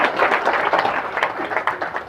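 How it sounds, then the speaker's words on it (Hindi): An audience of women claps at a business meeting, a brisk burst of many hands at moderate loudness, slightly uneven and thinning toward the end. "एक बार ताली बजाओ।"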